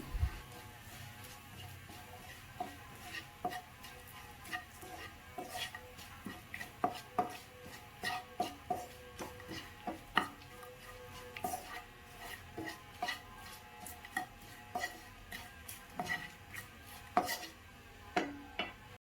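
A spoon stirs Kashmiri chili powder into Kerala-style mango pickle in a bowl, giving steady, close scraping and tapping strokes in an uneven rhythm that continue throughout without talk.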